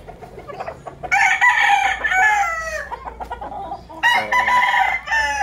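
A gamefowl rooster crows loudly and close by, two long drawn-out calls with short clucks and chatter from the fowl between them, and no voices.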